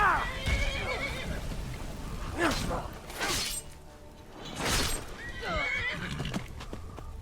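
Horse in the video game Skyrim whinnying and neighing loudly several times, with hoof clops and a shattering crash mixed in, and a voice speaking briefly in the background.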